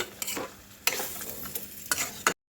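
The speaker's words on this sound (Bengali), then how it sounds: "জল দিয়ে ভালো ভালো করে মিশিয়ে দেব" Potatoes and cabbage stirred with water in a pan, a low-oil vegetarian cabbage dish: close scraping and stirring strokes in irregular bursts over a soft sizzle, with no talking.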